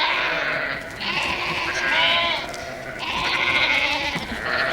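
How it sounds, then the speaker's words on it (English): Sheep bleat on a farm in South Africa's Great Karoo, several loud, wavering calls overlapping in close succession against steady outdoor background noise. "the sheep are definitely the dominant animals on this farm"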